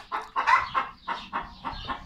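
Broody hens cluck loudly and close by in a steady run of sharp, repeated bursts, each call rising and falling in quick succession with no one speaking.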